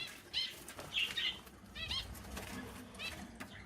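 Pet birds in a coop beat their wings in several short, close flurries of flapping, with soft chirps between the bursts.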